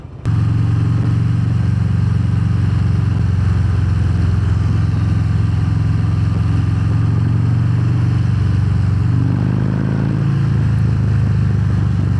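A Harley-Davidson Fat Bob 114 motorcycle rumbles steadily under riding, a loud, continuous low engine drone with constant wind roar and a slight swell in pitch near the end.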